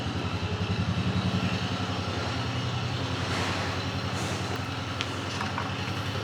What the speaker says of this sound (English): That's the tractor we plant with out of the shed